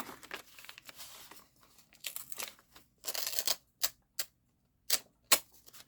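A paper tag is ripped off while stamped tags are being made, giving a run of close crinkly paper rustling and tearing. It ends in several short, sharp separate rips with quiet gaps, and no one speaks.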